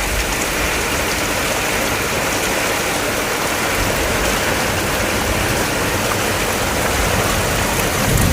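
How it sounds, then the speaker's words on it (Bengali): Very heavy rain pouring down during a storm, a loud, dense, unbroken roar of falling water close by, with no voices. "প্রচণ্ড জোরে বৃষ্টি হচ্ছে।"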